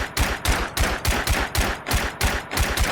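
A semi-automatic pistol firing compact advanced rounds in the Minecraft Scorched Guns 2 mod, nine or ten sharp shots in a quick, evenly spaced series, loud and close, with no voices over them.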